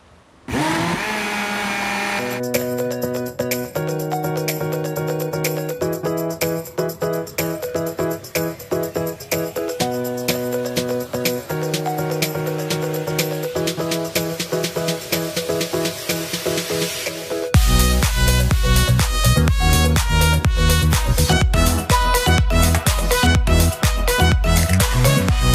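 Electric hand mixer beating homemade coffee ice cream base, a loud continuous whirring drone that runs without pause and grows harsher and louder toward the end, with no speech.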